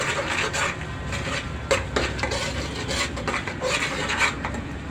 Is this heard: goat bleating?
no